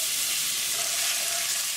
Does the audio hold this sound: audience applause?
no